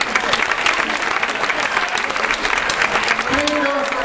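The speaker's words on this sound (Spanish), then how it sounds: "pues un aplauso también." A crowd at a La Rioja school day event applauds the parents' association, dense sustained clapping filling the space, loud and close, with a faint voice underneath near the end.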